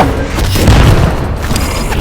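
A heavy bomb blast in the Brawlhalla fighting game, a loud booming explosion with rumbling low-end thumps that fills about two seconds without pause.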